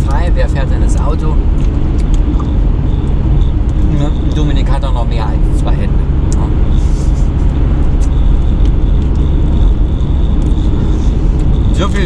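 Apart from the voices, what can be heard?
car driving, heard from inside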